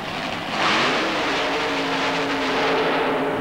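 A supercharged Chevy-powered 1927 T altered launches at a mud race, its engine roaring loud and sustained as it accelerates at full throttle.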